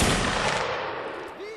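A musket volley from a Napoleonic Wars battle in Mount & Blade: Warband cracks loud and close, then its rumbling echo fades out. A voice speaks faintly underneath.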